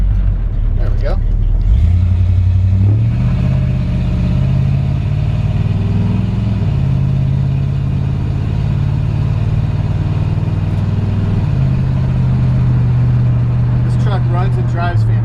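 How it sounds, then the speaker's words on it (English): A 1957 Chevrolet 3100 short bed truck with a rebuilt 350 V8 and turbo 400 transmission idles loudly in neutral, with a couple of revs up and back down into a steady low rumble. "1957 Chevrolet 3100 short bed truck. It's got a 350 V8, and it's got a turbo 400 transmission, and I'm in neutral."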